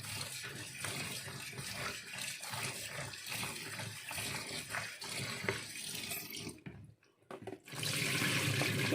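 Eggplant slices being washed in water while making eggplant chips, with continuous splashing and sloshing close by, a brief near-silent gap, then louder running water at the end.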